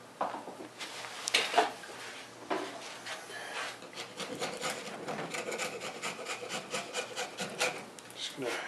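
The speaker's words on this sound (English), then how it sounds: "Just going to use this chisel to take the sharp edge off before it accidentally hurts someone." A chisel scraping a razor-sharp metal edge to dull it, giving a steady run of close rasping, rubbing strokes with scattered sharper scrapes and no talking.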